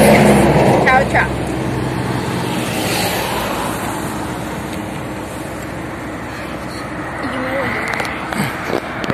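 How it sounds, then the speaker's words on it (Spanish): A car turning around on a rural road near waterfalls in the Meta region, heard as a broad engine and tire rumble amid traffic noise, with people talking over it. "Mira, ese carro se está volviendo."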